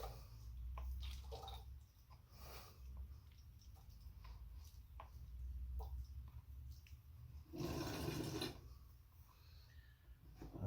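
Transmission fluid pours from empty containers into one, making a continuous soft liquid trickle and gurgle, close by, with a brief heavier splashing burst partway through.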